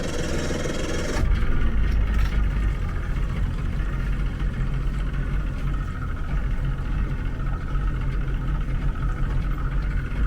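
A boat engine, unused for a week, catches after a brief start at the outset and settles into a steady, loud mid-pitched running drone up close with no talking.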